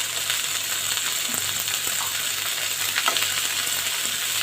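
Tomato, onion, garlic and ginger frying in a pan for paneer tikka masala, a steady close sizzle with occasional stirring scrapes and no talk.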